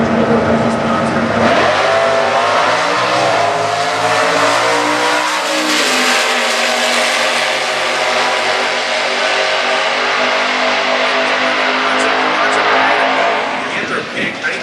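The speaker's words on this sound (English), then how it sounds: "The pink 1970 Cuda. This is a 440 car." A pink 1970 Cuda 440 race car roars loudly and continuously at a drag strip during stock class eliminations, its big-block engine note rising steadily as it accelerates away.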